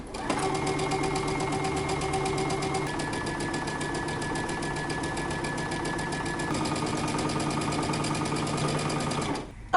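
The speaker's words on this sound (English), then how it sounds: "we're going to stitch very close to this edge" A sewing machine stitches close to the folded edge of a dress placket with a fast, even mechanical rattle that runs continuously and loudly with only slight shifts in pace, then stops at the end.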